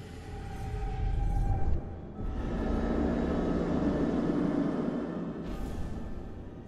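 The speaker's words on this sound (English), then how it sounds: "Okay, a helicopter." Helicopter rotor rumble in the horror video game Man of Medan, a steady low drone that holds throughout, dipping briefly partway before resuming loud and near.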